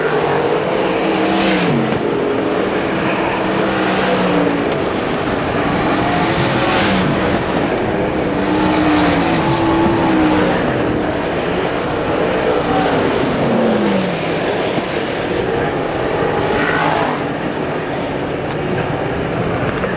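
Modified race car engines roar and whine continuously during a heat race, rising and falling in pitch as cars pass close by on a track, loud and sustained throughout.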